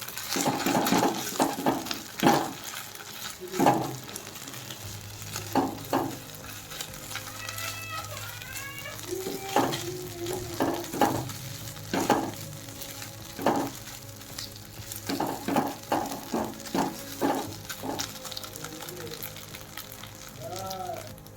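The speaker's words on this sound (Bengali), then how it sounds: "এটা আমি এবার ভাজতে থাকবো যতক্ষণ না এর কাঁচা গন্ধটা যাচ্ছে" Ginger paste, dried chili and cumin paste frying with onions in a pan give a low sizzle, broken by repeated spoon scrapes and knocks against the pan.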